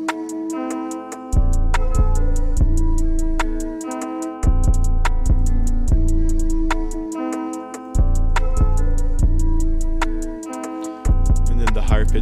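A trap beat hook made for a 21 Savage style track: rapid ticking hi-hats, a rim snare, and deep 808 bass hits under a bright melody that jumps up an octave, with open hi-hat accents looping through.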